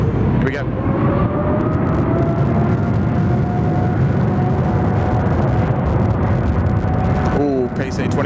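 Singapore Airlines flight 212, a jet taking off at Sydney Airport, gives a loud, steady engine roar with a rising whine that holds throughout, a brief distant crackle near the end.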